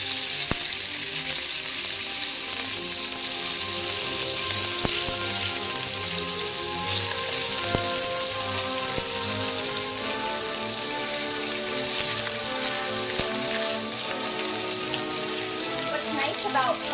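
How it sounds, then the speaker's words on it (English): Chunks of pork sizzle in hot oil in a pan, a loud, continuous crackling hiss with popping spatters, mixed with steady musical tones in the background. "I'm going to put now about 4 chunks of pork onto the pan,"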